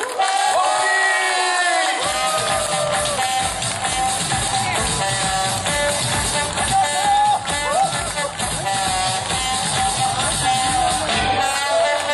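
A crowd at a radio station's public concert claps and cheers to welcome a Korean singer, a loud sustained roar mixed with opening music that rises after a short quiet start.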